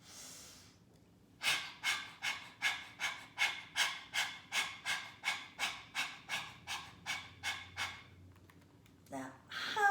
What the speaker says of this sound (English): Stick your tongue out and start panting like a dog.